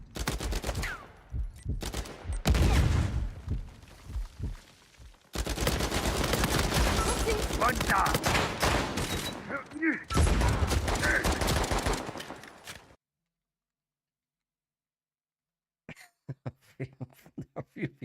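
Bursts of automatic gunfire from a gun in Uncharted 4 play over game audio. The shots come as dense rattling volleys, then stop, and a few sharp shots follow near the end.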